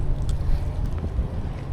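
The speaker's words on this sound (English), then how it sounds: "Windy today" Steady low rumbling wind buffeting the microphone outdoors at a large plaza during sidewalk pressure washing, a constant blustery roar with no voices.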